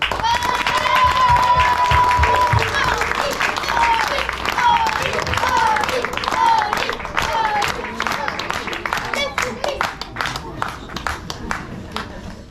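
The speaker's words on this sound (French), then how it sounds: "Je vous demande un tonnerre d'applaudissements pour Oli." An outdoor crowd at the inauguration of a reading hut claps in sustained applause, loud and steady before thinning to scattered claps, with voices and a high whistle-like tone early on.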